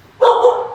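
A dog barks right at close range, one sustained loud bark that sets in after a brief quiet moment and rings on to the end.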